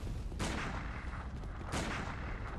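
Two loud gunshot blasts in a video game, one at the start and another about halfway through, each followed by a sustained rumbling roar of dense gunfire.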